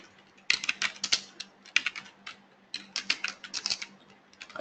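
A command is typed on a computer keyboard in quick bursts of close, crisp key clicks, with short pauses between runs of keystrokes and no voices.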